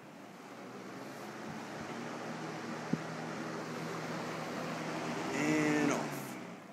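A 1976 Kmart Lakewood K-223 box fan runs on its high setting, giving a steady broadband whoosh of moving air with a faint motor hum, alone and fairly quiet, with a brief click near the end.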